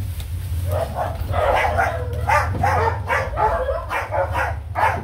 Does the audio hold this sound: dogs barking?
yes